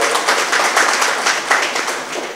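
An audience at a Buddhist prayer and felicitation gathering claps together, a dense, fairly loud patter of hands with slight surges, lasting a couple of seconds without speech.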